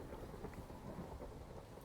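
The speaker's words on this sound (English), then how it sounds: "Damn, that lightning's striking a lot." Low, continuous rumbling of thunder during a Minecraft lightning storm, with a soft rain-like wash over it, faint and steady with no distinct crack.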